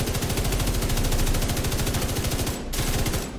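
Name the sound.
gunfire from a weapon in the video game The Division 2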